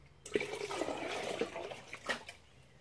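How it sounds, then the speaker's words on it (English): Water poured into a pail in a pottery studio, a short splashing, gurgling pour that rises and settles over a couple of seconds, close and moderately loud with no talk. "I'm going to pour some water in here in my pail"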